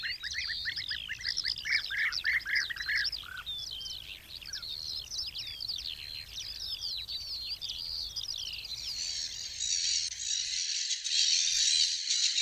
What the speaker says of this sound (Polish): Lesowe skarpy wśród okolicznych pól upodobały sobie żołny, jedne z najbarwniejszych ptaków Polski.